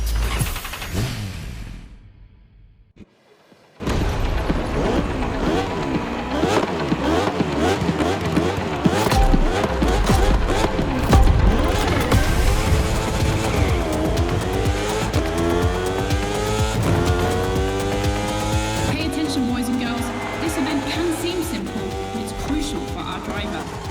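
Motorcycle racing engines in The Crew Motorfest on PS5 roar loudly and continuously, with rising and falling revs and gear changes layered over a dense, busy mix after a brief quiet gap near the start.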